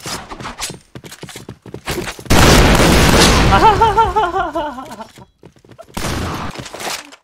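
Gunfire in a zombie shooter video game, a burst of dense loud shots and booms mixed with warbling game effects, set between quieter stretches of clicks and rattles and a final loud blast.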